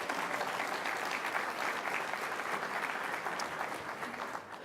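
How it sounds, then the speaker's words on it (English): Audience applause at an evening community-service celebration gala, a dense, steady wash of clapping that stays loud and continuous throughout, tapering only slightly at the very end. "Let's give them a round of applause."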